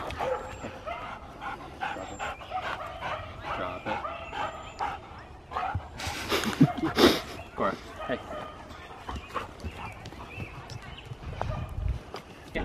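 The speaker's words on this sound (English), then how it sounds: "The off-leash dog park, so there's dogs just running around crazy everywhere." Dogs bark and yip amid scattered play noises at an off-leash dog park, with a person talking nearby throughout.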